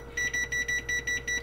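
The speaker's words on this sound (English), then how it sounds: "Timer, I'm gonna time this shit." A kitchen timer beeps in a steady repeating pattern, seven short bursts of several quick electronic tones each, close and clear over a low background hum while a frozen pizza bakes.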